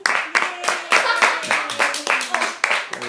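Several people clap in a rhythmic, evenly spaced pattern, each burst sharp and close, repeating roughly every quarter second while voices sing or call out over the beat.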